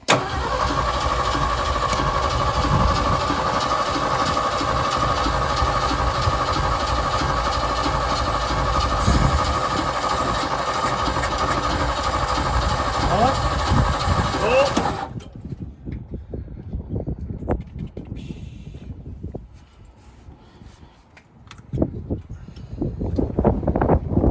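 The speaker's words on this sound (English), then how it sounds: "Just crank it over quick for a second." A 1971 Ford F250 engine that sat in the trees for nine years is cranked over. A steady, loud mechanical churning lasts about fifteen seconds, then cuts off, leaving quieter scattered sounds.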